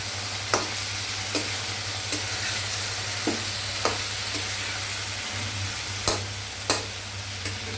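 Spices with Kashmiri chilli powder fry in a pan for a cauliflower ghonto, a low steady sizzle broken by a string of sharp scraping clicks as the mixture is stirred at irregular intervals.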